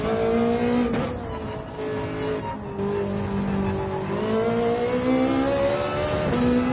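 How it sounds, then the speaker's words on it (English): A Ferrari race car engine in Gran Turismo 7, heard from the cockpit view, revs loud and steady with a rising and falling pitch that climbs through the gears, alone without talk. "Now this car is sounding like the Ferrari I've known."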